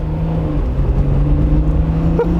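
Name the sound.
1993 Alfa Romeo RZ engine accelerating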